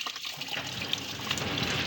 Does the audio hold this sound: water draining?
yes